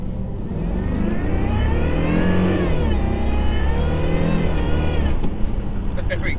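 A 400 hp supercharged V8 Jaguar S-Type R, long abandoned, pulls hard from inside the cabin, engine note rising loudly and steadily through the gears with a brief dip at a shift, and voices talk over it.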